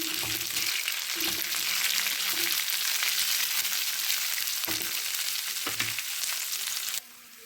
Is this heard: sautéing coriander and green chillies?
yes